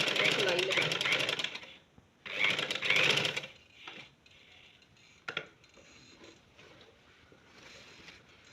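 A sewing machine stitches a fabric corner on a side slit hem with fabric strip trim, fast buzzing bursts of stitching near and loud, then quieter handling noises with a brief clack.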